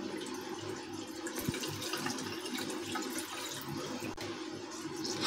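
Fresh paneer for rasgulla being rinsed and washed by hand in water, giving a steady, continuous rush of running water that stays even and fairly close throughout, with no talking.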